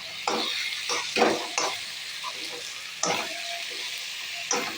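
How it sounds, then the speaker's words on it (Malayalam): A potato and meat curry stirred in a pan, with a steady frying sizzle and repeated bursts of spoon scraping against the pan at uneven intervals. "നമുക്കിതൊന്ന് ഇളക്കാം"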